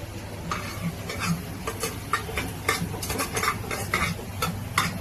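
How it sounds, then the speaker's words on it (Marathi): Mutton with a little mutton masala sizzles steadily in a pan while a spoon scrapes and stirs in repeated, uneven strokes, close and continuous. "आता आपण याच्यामध्ये मटण ऍड करणार आहोत"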